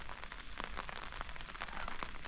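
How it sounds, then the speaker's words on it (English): Steady rain falls outdoors at a quiet countryside spot in Weardale, a continuous soft hiss with scattered brief drop spatters, fairly faint and with no voices. "So yeah, brilliant rain."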